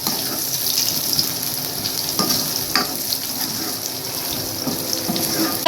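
Sizzling hot oil tempering, baghar, poured into boiling dal in a home kitchen, a steady bright hiss with stirring clatter and a few sharper crackles throughout, close and fairly loud.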